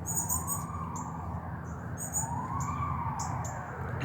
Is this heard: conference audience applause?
no